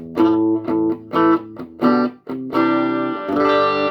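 Clean electric guitar notes picked one after another, each ringing out with a reverb tail, ending on sustained chords.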